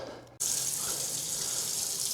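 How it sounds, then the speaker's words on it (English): Water gushes from a tap into a sink, starting abruptly after a brief quiet moment and then running steadily and loudly, close by, with no talking. "Let's go run some water."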